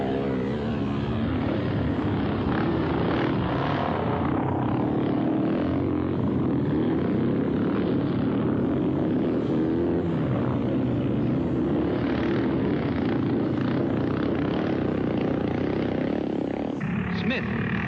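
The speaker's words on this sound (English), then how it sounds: "René Mera of France, riding the Matchless Matisse, holds him off as they go away into the country" Matchless and BSA motorcycles racing flat out on a country road circuit: a dense, loud engine roar that drones steadily throughout, swelling and shifting abruptly near the end as machines pass.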